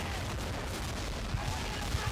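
Swivel cannon fire in Assassin's Creed III, a dense booming barrage with a few sharper low thuds near the end, steady and loud throughout with no talk.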